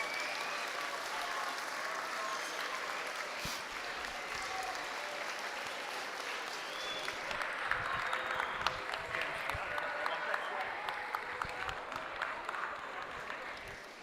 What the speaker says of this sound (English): we can give another big clap to Brother David there.